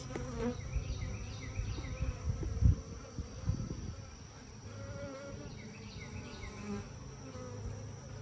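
A dense, continuous hum of many honeybees buzzing close by around their hive, with individual bees droning past over the steady swarm.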